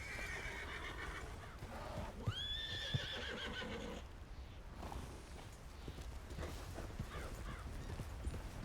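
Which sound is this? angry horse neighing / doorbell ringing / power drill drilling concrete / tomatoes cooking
angry horse neighing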